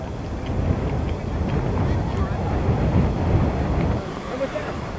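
Wind gusting across an outdoor high school track meet, a loud continuous low rumble and buffeting against the microphone for the whole stretch, with a voice talking faintly beneath it.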